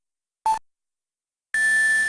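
Two electronic beeps from the video game Phoenix Wright: Ace Attorney - Trials and Tribulations: a short, quieter tone followed a second later by a much louder sustained beep.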